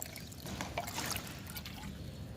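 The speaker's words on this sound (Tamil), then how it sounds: "இந்த தேங்காய் தண்ணி ஃபர்மெண்ட் ஆனதையும் வடிகட்டிக்கிறேன்." Fermented coconut water trickles and dribbles through a strainer, a soft, quiet, continuous pour heard up close on its own.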